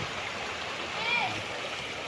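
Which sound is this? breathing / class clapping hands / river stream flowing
river stream flowing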